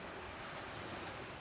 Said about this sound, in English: Only the waves remain